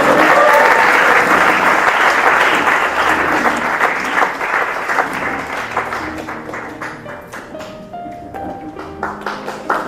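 Applause from guests at a 75th birthday celebration starts loud and dense, then thins gradually into scattered individual claps as it dies away, with a few light taps and faint voices near the end.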